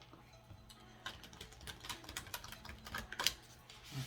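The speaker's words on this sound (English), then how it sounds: "I'm going to go ahead and shuffle these 3 times before we cut" Oracle cards from an ancestors deck being shuffled by hand, a soft run of quick papery riffles and taps, close and fairly quiet with no talking.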